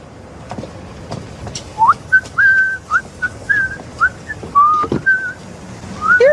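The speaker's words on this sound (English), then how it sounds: "I'm whistling a Christmas carol, so it counts." A person whistles a Christmas carol, a clear bright melody of short rising and held notes, close and alone with faint background noise.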